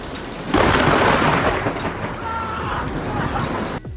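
Thunderstorm in Louisiana after lightning strikes a tree near a home: a loud crack of thunder bursts in and rolls on over steady heavy rain, staying close and dense until it cuts off abruptly near the end.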